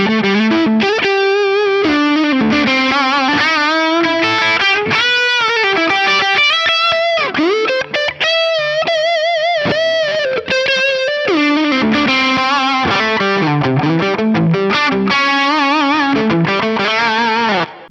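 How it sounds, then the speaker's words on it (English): Electric guitar played through a NUX Cali Crunch amp model with a crunchy, lightly distorted tone, a continuous loud run of melodic lines and chords with no talking. "your other option is this Cali Crunch"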